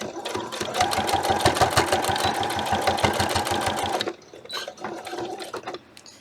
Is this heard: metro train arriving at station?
no